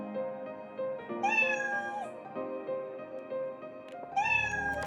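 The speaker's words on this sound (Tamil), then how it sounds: "இந்த ப்ளே சவுண்ட் அப்படியே போயிட்டே இருக்கும், மியாவ் சவுண்ட் வந்துகிட்டே இருக்கும்" A cartoon cat's meow plays again and again in a Scratch coding program's repeat loop, a clean synthetic mew recurring several times at a steady pace with no other sound around it.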